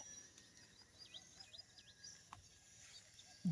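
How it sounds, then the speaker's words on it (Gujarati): Faint birdsong chirps intermittently in a quiet outdoor setting, soft repeated calls over a low background hum. "અને પંખીડા બોલે છે."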